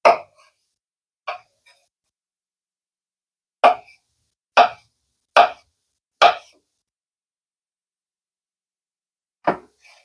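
Food being chopped into little pieces with a knife on a board: seven sharp, separate chops spaced irregularly across the stretch, close and clear, with silence between strokes and no talking.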